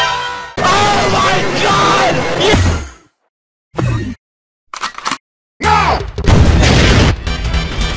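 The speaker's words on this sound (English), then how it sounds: "Rocket launcher." Rocket launcher blasts in a video game: bursts of loud explosive booms and crashes separated by sudden silences, with a voice shouting over the first stretch.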